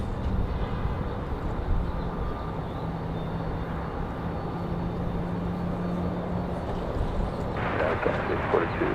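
An airplane at Raleigh Durham International Airport gives a steady, distant engine rumble, with a radio voice murmuring underneath and a burst of brighter noise near the end.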